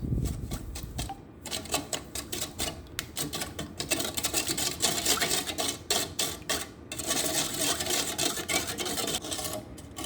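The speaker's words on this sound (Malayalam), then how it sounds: "നമുക്കിനി ഇതെല്ലാം കൂടി നന്നായിട്ടൊന്ന് മിക്സ് ചെയ്തെടുക്കാം." Eggs and milk being whisked together in a bowl for bread toast, a close, continuous rapid clatter and scraping with short pauses throughout.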